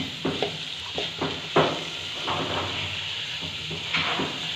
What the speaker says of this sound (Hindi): अब इस स्टेज के ऊपर मैंने डाल देना है इसके अंदर पुदीना। इसको भी एक दफ़ा मिक्स कर लूँगी